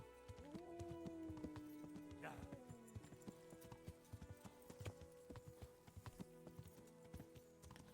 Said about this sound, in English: you just literally ride your horse, which you do regardless